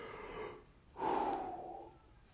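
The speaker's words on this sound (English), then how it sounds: "why am I yawning this way this morning?" A man yawns in the morning, a drawn-out breathy inhale swelling into a loud open-mouthed exhale that fades, close and alone.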